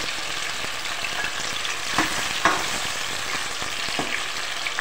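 Large cut tomatoes hit hot oil in a karahi and fry with a loud, steady sizzle, broken by a few sharper crackles and stirring scrapes near the middle and end.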